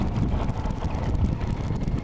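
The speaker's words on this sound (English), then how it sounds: "It is a little windy today, and I'm not the heaviest bloke around, so I get a little bit buffeted in the wind sometimes." Wind buffeting a motorcycle rider on a windy day, a rough, gusty low roar of wind against the microphone, loud and continuous with no talk.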